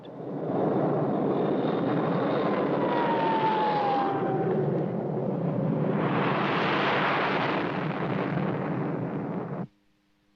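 Fighter aircraft roar past in a 1958 film, a loud, steady jet rush with a rising whoosh partway through, then an abrupt cut to near silence at the end.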